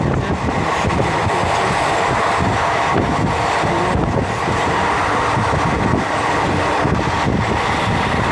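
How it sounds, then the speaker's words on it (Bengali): An express train passes at night on the way to Sealdah, a loud, steady, dense rumble and rattle of wagons rolling by close at hand for several seconds with no talking. "দেখতে পাচ্ছ এক্সপ্রেস ট্রেন যাচ্ছে।"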